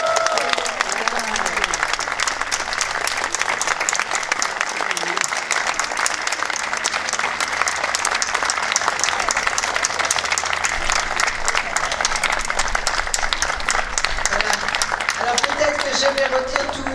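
An audience applauds nuns who have just taken perpetual vows, sustained dense clapping from a large crowd filling the room, with voices audible at the start and end.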